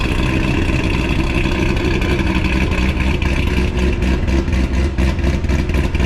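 A Corvette C6 engine with a Corsa or Bassani performance exhaust rumbles loudly and steadily up close while warming up, a deep throaty idle with slight pulsing, no clear revs rising or falling.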